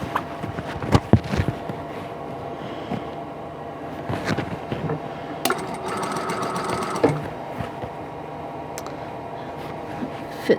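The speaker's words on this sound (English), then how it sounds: "outside blocks, and we'll sew these together" A sewing machine stitches quilt blocks together for a London Blues block-of-the-month quilt, running in close, steady bursts with brief pauses and faint handling clatter between runs.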